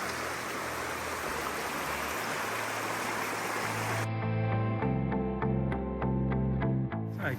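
Hamilton Creek rushes in a broad, steady wash beneath a swing bridge in beech forest, loud and continuous for about four seconds before cutting abruptly to a different, tonal sound.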